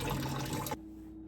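A stoneware pickling crock being washed in hot soapy water, with running and sloshing water for most of the moment before it cuts off abruptly, leaving quiet room tone.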